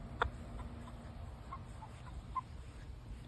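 Chickens on a farm give a few faint, scattered clucks at a distance, including one sharper call near the start, over a quiet outdoor background with no talking.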